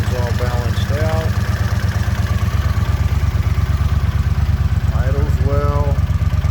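A motorcycle engine with freshly balanced carburetors idling steadily and close by, an even rapid thumping pulse throughout, while a person talks over it.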